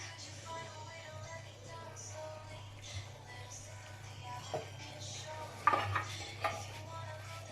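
Stuffed tinda gourds set into a metal cooking pot, giving soft clinks and a few sharper knocks of vegetables and utensil against the pot over a steady low hum, fairly quiet.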